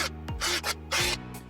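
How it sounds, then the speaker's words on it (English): An electric drill bores out four holes in an X-Maxx RC chassis brace with a larger bit. Two loud bursts of cutting rasp come close up, each ending as the motor winds down, and no one speaks. "Okay, that's all 4 of these holes drilled."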